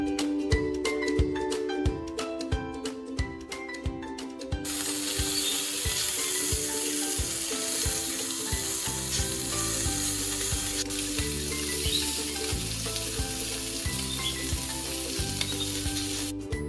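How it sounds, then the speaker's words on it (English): Salmon sizzles steadily in a hot pan, a dense continuous frying hiss that grows fuller midway and runs alone without talk, with a rhythmic tonal pattern in the background. "Now I am grilling the salmon."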